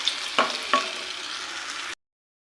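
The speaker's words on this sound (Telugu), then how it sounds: "చక్కగా లో ఫ్లేమ్లో పెట్టుకుని మనం ఫ్రై చేసుకోవాలి." Rice flour vadas fry on a griddle over a low flame with a steady, even sizzle, two light utensil taps, and then abrupt silence.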